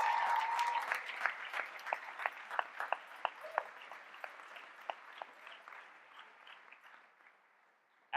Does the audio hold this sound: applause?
yes